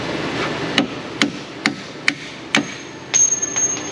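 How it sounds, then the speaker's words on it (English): Five sharp metallic hammer strikes on a strut-to-knuckle bolt of a 2007 Dodge Caravan 3.8 at a steady, slow rhythm, followed by a brief scrape of metal. "I can hammer on that bolt."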